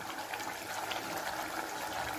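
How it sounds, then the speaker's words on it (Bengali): Hot water poured into a pot of cooking bora curry after the spices have been fried, a steady continuous pouring and gushing of liquid lasting a couple of seconds, close and even. "একটু গরম জল দিচ্ছি।"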